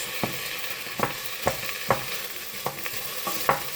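Red onions frying slowly in a pan until caramelized for spicy sausage rice, a steady sizzle with sharp regular scrapes of a spoon stirring, close and clear with no voices.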